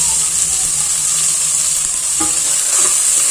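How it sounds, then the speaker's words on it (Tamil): Onion, green chili, ginger-garlic paste and mint sautéing in a pan, a loud, continuous close sizzle and hiss with occasional stirring clinks, no talk. "எல்லாத்தையும் நல்லா வதக்கி விட்டுக்கலாம்"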